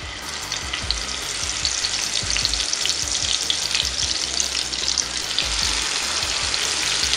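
Pieces of marinated goat brain sizzle and crackle in about three spoons of hot oil, a dense continuous frying hiss with scattered pops and occasional stirring clatter, close and steady throughout.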